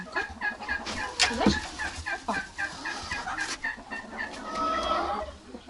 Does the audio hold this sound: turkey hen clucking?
yes